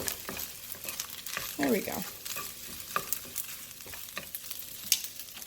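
Egg mixture being stirred and folded into rice in a frying pan, scattered spatula scrapes and taps over a low sizzle, with a brief spoken remark near the start.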